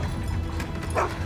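A dog in a house gives a brief bark near the end, set against a steady low background rumble.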